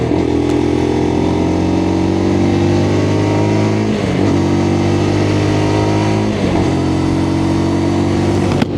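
Lexmoto LXR motorcycle on a test ride, its engine revving loud and close, climbing in pitch through each gear with two brief dips at gear changes, and no talking.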